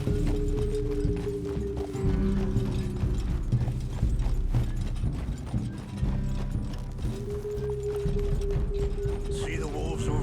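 Horse hooves clip-clop steadily while riding in the video game Red Dead Redemption 2, a rhythmic trot under layered music and ambience, with a voice speaking over parts of it.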